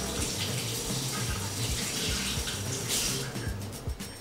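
Leeks are rinsed under a running kitchen tap, a steady close splashing rush of water with shifting spatter as the stalks move through the stream.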